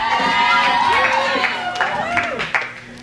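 Live music show audience at a pub cheering and whooping after a band with drums, lead guitar and pedal steel: a short burst of loud shouts and cheers that tapers off toward the end.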